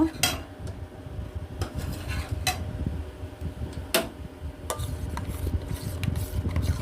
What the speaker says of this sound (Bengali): দুধের মধ্যে আমি একটু গুঁড়ো দুধ দিয়ে দেব এটা মিশিয়ে দেব